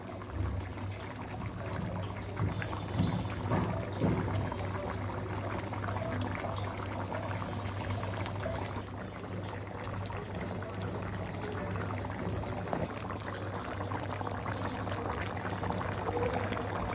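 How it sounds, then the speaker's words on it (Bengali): Meat curry with added water heating in a pot toward a boil: a continuous dense bubbling, seething wash at steady moderate loudness throughout, no voices. "পরিমাণ মতো দিলাম জল, আর এখন হচ্ছে একটু রেখে দেবো বলক আসার জন্য"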